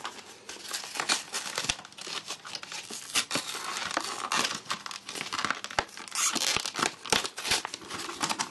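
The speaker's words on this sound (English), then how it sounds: "Unfortunately we have to rip this open." Plastic packaging for an iMesh iPhone 4 case with d30 technology is torn and ripped open by hand, a busy run of close crinkling, crackling and sharp tearing bursts with no talking.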